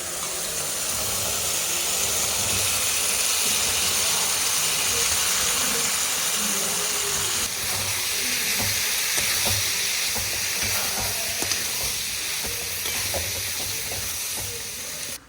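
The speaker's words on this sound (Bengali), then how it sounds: "মশলার সঙ্গে আলু মটর কষে এইভাবে যদি ঘুগনি রান্না করা যায়" Boiled potatoes and peas stir-fried with masala for ghugni, a loud steady frying hiss and sizzle with scattered scraping stirs and clicks growing busier in the second half, close and continuous.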